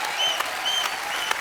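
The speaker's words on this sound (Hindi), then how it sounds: "ताली बजाओ। क्या बात है।" Dense applause from a studio audience at a comedy talk show, steady and fairly loud throughout, with faint tonal sounds drifting above the clapping.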